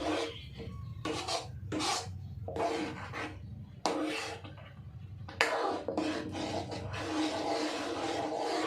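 Food being stirred continuously in a cooking pan over low heat, with repeated rhythmic scraping and rubbing strokes of a utensil against the pan, close and steady under a low background hum.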